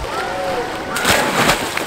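A person jumps into a pool at a home and splashes loudly and close by, with water sloshing before and after and people talking over it.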